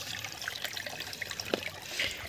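Spring water bubbling up from the ground in a forest, a soft steady trickle with small gurgles and a few brief splashy pops, close and faint.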